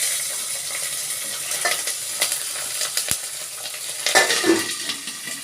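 Green chillies and coriander hiss and sizzle in hot oil, a steady, moderate frying crackle with occasional stirring scrapes and no voices.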